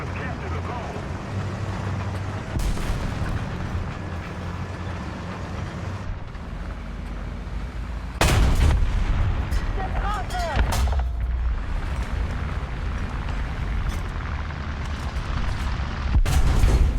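Self-propelled howitzer artillery in War Thunder booms several times over constant engine and wind-like rumble. The blasts are loud and broadband, with one big blast midway and more near the end. A voice speaks over the din.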